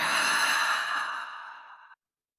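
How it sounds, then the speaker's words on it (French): A single deep breath, drawn in through the nose and released through the mouth during a guided yin yoga heart-opening session, heard as one close, airy sigh-like exhale that fades over about two seconds, then silence. "reprendre une profonde inspiration par le nez et une profonde expire par la bouche"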